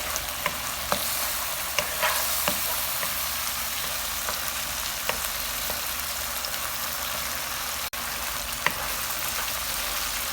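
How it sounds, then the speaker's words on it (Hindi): Onions frying in a pan for a restaurant-style chili chicken, giving a steady loud sizzle throughout with occasional light stirring clicks and scrapes, no talking. "प्याज हमारा फ्राई हो चुका है।"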